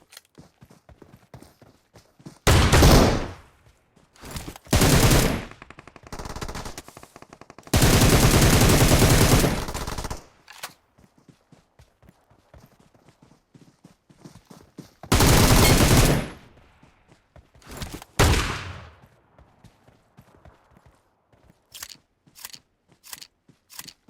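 Gunfire in PUBG Mobile, including a shotgun: several loud bursts of shots, some in rapid strings and one long sustained stretch, separated by quiet gaps with faint clicks and small sounds, with no talk over them.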